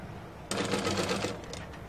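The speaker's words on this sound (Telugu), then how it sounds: "ఫస్ట్ ఈ క్లాత్ తీసుకొని ఈ విధంగా మనం పైన కుట్టు వేసుకుందాము." A sewing machine stitches a blouse lining in a quick, rattling burst lasting about a second, close and fairly quiet, then stops.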